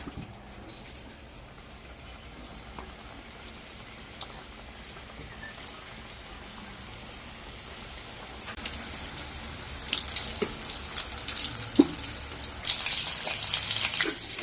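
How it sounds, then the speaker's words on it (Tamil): Homemade samosas deep-fry in hot oil, the bubbling crackle starting quiet and swelling into a loud, dense sizzle through the second half, with scattered pops. "நம்ம எடுத்து சமோசா ரெடி பண்ணி வச்சிருக்கோம்ல, அது எண்ணெயில் போடலாம்."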